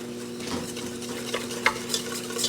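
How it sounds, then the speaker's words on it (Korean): About 500 g of whipping cream being whipped for a cherry blossom tiramisu, a continuous close rhythmic stirring and whisking with a few sharper clinks against the bowl and no voices. "500g 정도만 먼저 휘핑크림 넣고 이제 휘핑 하도록 할게요"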